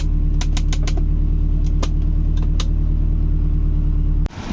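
A Honda City Type 2 with a stock 1.5 litre VTEC engine, built for drag racing, idles loudly and steadily with a deep even rumble and a few sharp clicks, then cuts off abruptly near the end.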